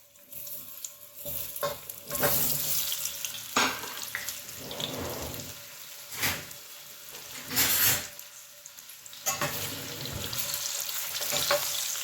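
Cut potatoes fry in hot oil for dum aloo, sizzling loudly and close with bursts of stirring and scraping in the pan, the hiss rising and falling across the stretch without any talk.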